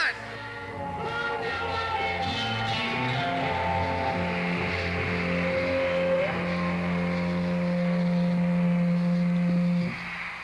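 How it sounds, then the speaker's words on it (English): An armored car's engine drones and revs with a rising harmonic tone over a steady low rumble, holding loud and close before fading at the end. "They get in an armored car and go away."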